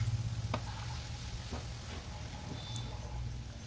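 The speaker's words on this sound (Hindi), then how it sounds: "पैन में मैंने तेल लिया है और हरी मिर्च की पेस्ट डाल दी है।" Green chili paste fries in oil in a pan with a soft, steady sizzle, joined by faint occasional ticks and stirring sounds throughout.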